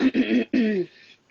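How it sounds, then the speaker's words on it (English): A woman clears her throat close up in two quick rough bursts, then a longer grating rasp that trails off into quiet. "clear my throat"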